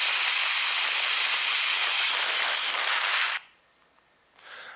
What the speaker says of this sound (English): this is a little geothermal vent near Krafla volcano, and you get a sense it's steaming away permanently